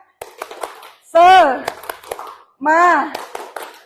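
Group at a school session doing the tepuk semangat clapping chant, quick bursts of rhythmic hand claps alternating with loud chanted voices.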